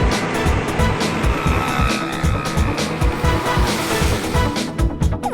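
Cartoon car speeding through Paris, a loud steady engine roar with rapid rhythmic pulses and tire-squeal accents, close and continuous without talk.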